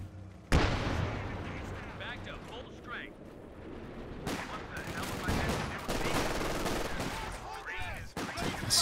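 MG42 machine gun fire rattles amid booming artillery and explosions during a Company of Heroes 2 match, with a sharp blast near the start and repeated bursts and impacts under an excited commentator's voice.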